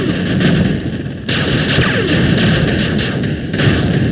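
Units in the 8-Bit Armies video game fire steady, rapid gunfire. Overlapping bursts and heavier thumps crackle continuously at close range.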